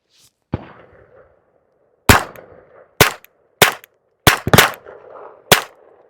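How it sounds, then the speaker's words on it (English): Suppressed .22 LR rifle shots through a Banish 22K silencer, six sharp reports spaced irregularly over several seconds, each a crisp pop with a short ringing tail, fairly close and standing alone without talk. "I think you hear a lot more of that first round pop with this Banish 22K"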